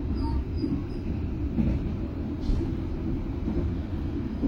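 Inside the Tegal Bahari business-class passenger train running at about 100 km/h, a steady low rumble and rail roar fills the cabin without pause, with faint high squeals and clicks on top.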